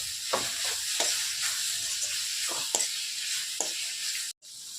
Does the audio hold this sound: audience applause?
no